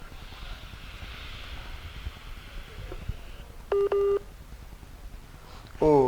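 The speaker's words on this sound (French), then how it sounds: "on reçoit cet appel" A telephone line on an incoming call gives short steady dialing tones, two brief beeps in quick succession, followed by a burst of higher warbling tones, over a faint background hiss.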